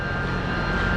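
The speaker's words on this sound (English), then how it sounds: "Sorry, the jet engine noise." Jet engine noise roars overhead near water, a continuous broad rumble with a steady whining tone, loud and unbroken, with no voices.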